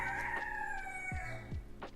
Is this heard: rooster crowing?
yes